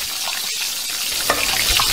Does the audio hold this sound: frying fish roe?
yes